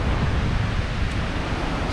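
Wind blows hard outdoors near waterfalls, a dense continuous roar of gusting noise with no break.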